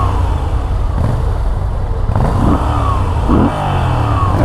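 A Moto Guzzi V7 Stone motorcycle engine at working temperature runs loud and close, rumbling with a few short throttle blips and revs rising and falling.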